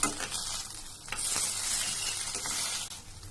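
Gobi manchurian gravy with spring onion sautés in a pan, a steady sizzling hiss with faint stirring scrapes and light clinks throughout.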